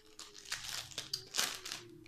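Crinkly plastic packets of nail glitter are handled and torn open up close, giving a run of soft rustling and sharp crackling crinkles with small rises and dips, with no talk over them.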